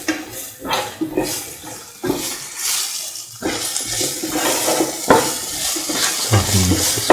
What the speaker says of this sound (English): Salt and mix the salt with the rest of the ingredients.